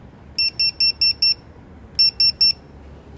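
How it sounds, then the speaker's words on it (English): A Vifly Finder drone buzzer sounds alone and loud: five rapid, evenly spaced high-pitched beeps, a short pause, then three more, over a faint background hiss. "this thing does act as a normal buzzer as well."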